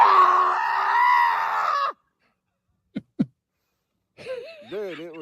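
A man imitates a Bigfoot scream with his voice: after a stretch of loud howling vocalizing come two short sharp yelps, then a wavering, warbling cry, all close and loud.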